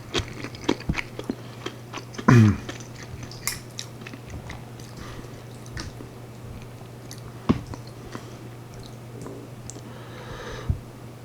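Tofu and kimchi being eaten up close, with soft wet chewing throughout and a few sharper bites and clicks, one loud bite near the start and others spaced out, no talking.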